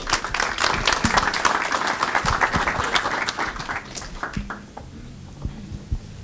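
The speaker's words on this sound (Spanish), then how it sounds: "Recibimos entonces a Viviana con un fuerte aplauso." An audience at a university lecture applauds to welcome a speaker, with dense, close clapping that holds steady for about four seconds, then thins to a few scattered claps and quiet room noise.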